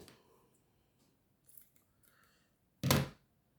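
Scissors cutting a piece of jute or wool, faint rustling handling followed by one loud, crisp snip.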